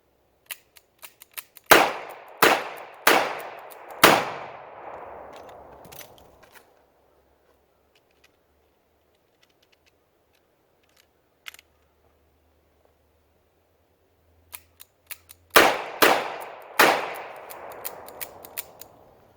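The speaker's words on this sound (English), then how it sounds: "you probably saw from that first round that I fired that, I had a couple of primers that just did not strike" An Armscor M200 revolver is fired outdoors, giving loud sharp reports in a quick series of four with decaying echoes, then a long quiet stretch with faint clicks as primers fail to strike, then another rapid string of shots.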